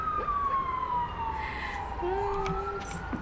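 Distant emergency sirens, a long wailing tone gliding slowly downward while a second, lower siren tone enters partway through, sitting over a constant rumble of background noise.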